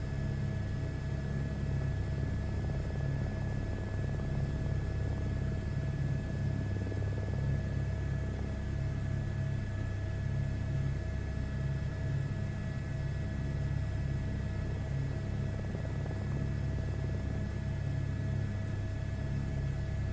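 A helicopter engine in a VR flight simulator drones loud and unbroken, with steady low rumble, a whining turbine and constant high tones, sitting on the pad without change.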